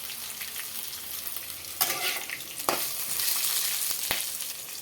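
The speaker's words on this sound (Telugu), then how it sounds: "ధనియాలు అయితే వేసుకుందాం అలాగే కొంచెం జీలకర్ర కూడా వేసుకుందాం ఇవి కాస్త వేపుకుందాం" Coriander and cumin seeds roast in a hot dry pan: a continuous light sizzle with a few sharp scraping stirs of a spatula.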